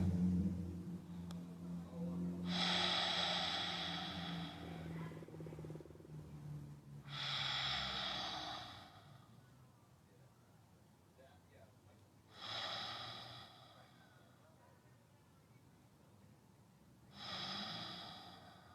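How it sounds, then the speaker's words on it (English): Slow, deep breaths during a yoga session, each long exhale rising as a soft airy rush and fading, repeated about four times at steady intervals, close and quiet. "listening to your breathing"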